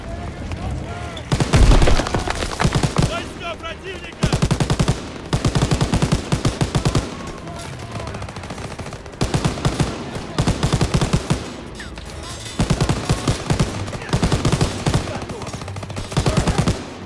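Machine gun fire in the Call of Duty WWII game, mounted on an armored vehicle: loud bursts of rapid automatic shots in repeated volleys of a second or two, separated by brief lulls with battle noise.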